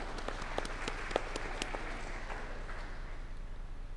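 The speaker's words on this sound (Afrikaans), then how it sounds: "Kom ons klap vir almal lekker hande." A church congregation at a Sunday service claps together in sustained, even applause. Many hands patter at moderate distance and the clapping continues steadily to the end.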